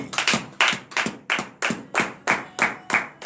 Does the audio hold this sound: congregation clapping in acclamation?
yes